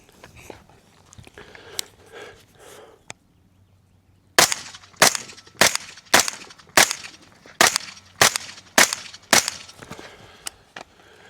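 An AR rifle fires repeatedly at a target on an outdoor picnic table, about ten sharp cracks spaced under a second apart after a quiet stretch of faint handling noise, loud and close with no talking.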